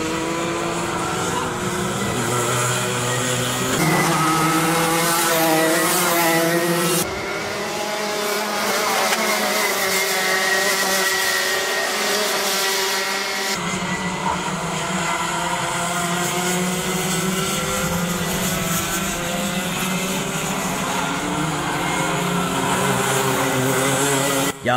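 Junior-category kart engines race at Uşak, a continuous loud high-revving whine with shifting pitch as karts pass, steady throughout with brief changes in tone.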